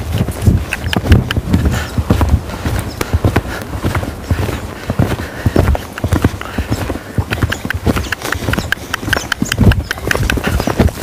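A young horse canters for the first time, its hooves drumming the ground in a quick, steady three-beat clip-clop, loud and close throughout.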